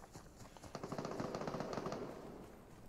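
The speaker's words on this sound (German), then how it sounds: "Schießen da oben her." Bursts of gunfire from above in the battle royale video game Super People, rapid automatic shots crackling loudly in a dense, steady rattle that fades slightly toward the end.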